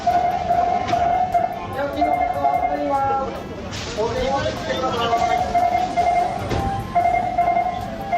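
A train rumbles and clatters with a sustained tonal whine and metallic screech, fairly loud and continuous, with some talk mixed in.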